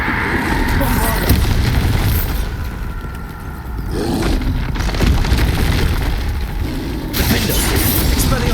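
Bombarda explosion spells blasting in Hogwarts Legacy combat, loud booming bursts and roaring rumble filling the scene alongside other battle noise, with voices shouting over the fight.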